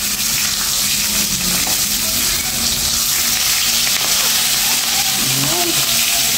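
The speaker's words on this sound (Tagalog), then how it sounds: "check natin yung ating piniprito" Galunggong fish frying in hot oil makes a loud, dense, continuous sizzle with spattering, heard close, with faint kitchen background sounds and a few brief tonal noises late on.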